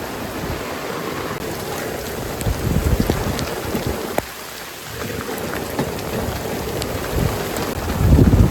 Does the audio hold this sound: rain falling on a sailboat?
yes